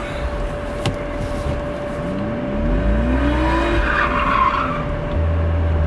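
A car drifting, its tires skidding in a rising, wavering squeal over a steady engine drone, heard from inside and close, with no talk.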